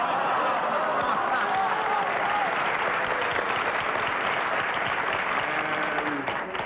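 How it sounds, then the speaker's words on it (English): A studio audience at a 1966 television game show applauds in a sustained, even roar of clapping, with a few chuckles and a voice faintly audible beneath it. "You applaud for the dumbest jokes."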